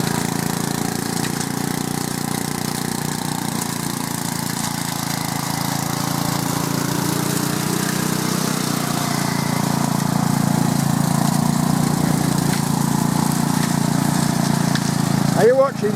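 A Briggs and Stratton garden tractor engine runs with a steady, mid-pitched drone close by and builds slightly toward the end. A person speaks briefly over the engine noise.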